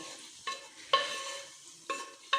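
Vegetables being stirred into masala for a creamy malai handi, producing a soft sizzle punctuated by four distinct scraping strokes of a spoon against the pot, near and moderately loud, no voices.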